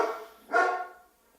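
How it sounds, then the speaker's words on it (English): A dog gives a single bark indoors at a moderate distance, with a softer trailing sound before it, otherwise quiet. "She's barking at something."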